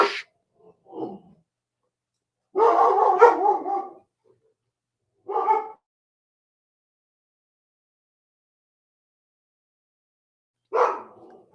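A dog barking in a home, a few loud separate bursts and short barks spaced over several seconds with silence between, close to the microphone.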